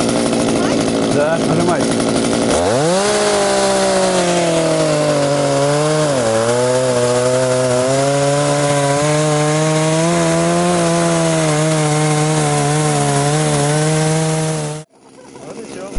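A six-kilogram chainsaw carving wood in a craftsman's artistic woodcarving workshop: the engine rises to a loud, steady buzzing whine at about 2.5 seconds, dips briefly near 6 seconds, then holds until it cuts off near 15 seconds, with brief speech at the start.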